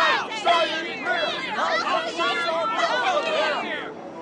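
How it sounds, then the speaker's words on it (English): Crowd murmur from a video game, an unhappy gathering of townsfolk muttering together in a dense, steady babble of many voices for about four seconds, fairly close and continuous. "A crowd comes in and they do not look happy."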